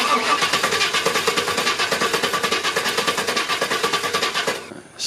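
A Chevy 350 Vortec V8 with a starting fault cranks steadily on the starter, a loud, fast, even chugging rhythm that runs for about five seconds without catching, then cuts off.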